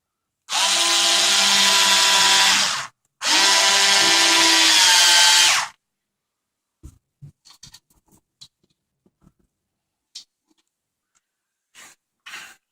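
A power drill drives a screw into the back panel of a wardrobe, two loud sustained whirring bursts close by, followed by scattered light clicks and taps of handling the panel and tool.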